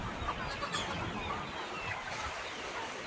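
Native village hens cluck softly and repeatedly, close by, perched in a poultry shed, over a dense, busy background of poultry noise.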